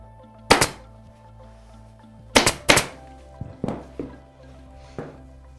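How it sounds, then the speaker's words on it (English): Several sharp, loud staple-gun shots drive staples through upholstery fabric into a chair frame, an isolated crack followed by a quick double and then a few softer thumps, close by with no talk. "everything stapled now"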